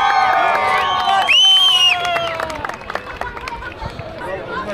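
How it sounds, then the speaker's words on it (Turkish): Crowd cheering and clapping at an urban downhill bike race in Ankara: a busy, lively roar of many voices with whistles and shouts, near and steady, with a brief higher-pitched tone partway through. "Herkes alkışlıyor."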